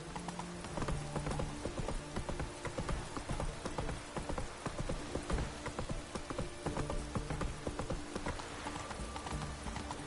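Roach the horse trots in The Witcher 3 on damp ground on the way to Redania, a steady fast clip-clop of hooves running continuously and close throughout, with light rain-like patter behind it.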